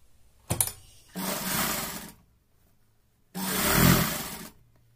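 A sewing machine stitching a reversible newborn baby cap, running in two short whirring bursts separated by quiet pauses, preceded by a brief clatter, with no speech.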